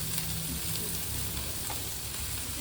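Fish sizzles and crackles steadily in hot oil, a close, continuous frying hiss with soft bubbling and no talk.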